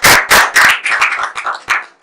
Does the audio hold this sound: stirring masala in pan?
no